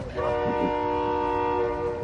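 A video-game train, with people aboard, rolls past sounding a sustained steady horn tone, loud and close, over low rumbling carriage noise, for about two seconds.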